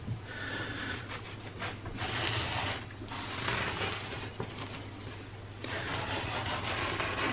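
A cloth soaked with alcohol wipes along the cut edge of zinc-coated steel, giving a quiet, raspy scraping in uneven back-and-forth strokes over a low background hum.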